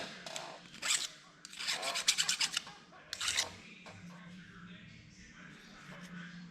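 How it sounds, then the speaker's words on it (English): Hand filing on a metal part for a Myford bandsaw kit, heard as several bursts of rasping strokes in uneven groups, fairly close and moderately loud, with quieter scraping between them and a low background hum. "some judicious filing"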